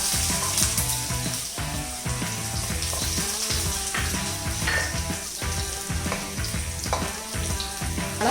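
Chopped garlic sizzling and frying as it hits hot oil in a pan for Indo-Chinese dragon chicken, a loud continuous crackle with scraping stirring clicks, close up and without talk.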